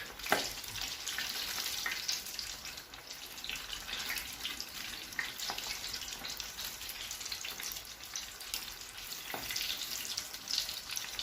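Crispy chicken and already-cooked potatoes fry in a pan, a steady close sizzle with crackling oil and a few sharp pops, with no talking.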